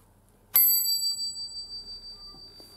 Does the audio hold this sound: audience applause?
no